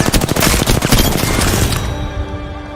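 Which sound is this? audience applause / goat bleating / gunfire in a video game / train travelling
gunfire in a video game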